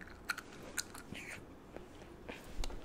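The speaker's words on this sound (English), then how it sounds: "I'm chewing my gum." Gum being chewed close to the microphone in a quiet setting, soft wet smacks and squishes repeating at an irregular pace with no talking.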